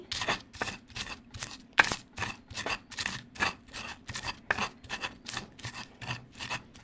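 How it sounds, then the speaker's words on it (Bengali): Spices and salt ground by hand on a clay grinding stone, a steady series of rhythmic rasping scrapes repeating about twice a second, close and fairly loud with no talking. "আমি এখানে স্বাদ মতো লবণ দিয়ে নিলাম তারপর আমি বেটে নিচ্ছি"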